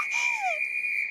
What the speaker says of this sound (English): that's even louder than your whistling, Lily.